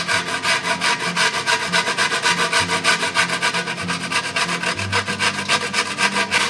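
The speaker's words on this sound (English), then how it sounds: "We're just going to use the same grater." A truffle is rubbed over a fine grater in quick, even strokes, roughly three rasping scrapes per second, close and continuous with no voices.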